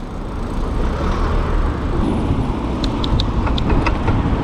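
Steady rush-hour car traffic on a busy road, heard from a moving 1000-watt e-bike near a roundabout: a continuous loud roar of engines and tyres, with a few brief high squeaks near the end.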